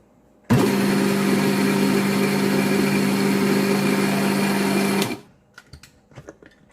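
Fresh ginger ground finely in an electric grinder, a loud steady motor whir with an even buzzing hum running for about four and a half seconds, then cutting off abruptly, followed by a few small clicks and knocks.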